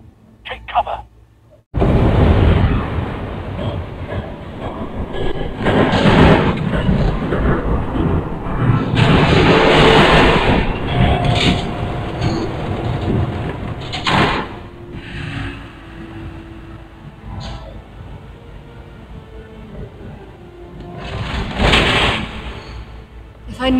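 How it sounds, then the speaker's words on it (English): A train rumbles past in the video game Batman: The Telltale Series, a loud, sustained roar that swells and fades with sharp metallic bursts, while characters talk through it. "There's a train coming."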